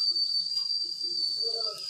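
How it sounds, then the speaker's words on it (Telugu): A pressure cooker steaming idli gives off a steady, high-pitched whistle that holds without a break, fairly loud and close, over a faint hiss. "ఇడ్లీ అయితే పెట్టేసి 5 విజిల్స్ వస్తున్నాయి. 1 విజిల్ వచ్చింది."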